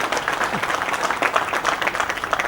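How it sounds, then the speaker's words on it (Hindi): A crowd at a Madhya Pradesh government event applauds the chief minister with dense, continuous, loud clapping that holds steady throughout. "मैं चाहता हूँ एक बार जोरदार ताली बजा के"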